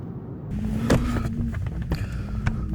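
A car drives along a road, heard from inside: a steady low engine hum with occasional knocks and rattles from the cabin or the road surface.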